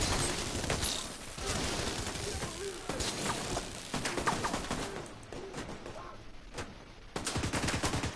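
Gunfire in The Division 2 on PS5: dense bursts of shots and rattling automatic fire crackle almost continuously, loud and close, with brief lulls and a sharp renewed volley near the end.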